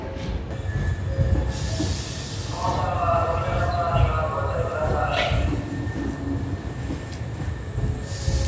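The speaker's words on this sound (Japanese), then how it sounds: "電車が出します。" A rapid train pulls out of Osaka-Umeda station, wheels rumbling and squealing with rising screeches along the platform, while a station announcement and other voices talk over the steady rolling noise.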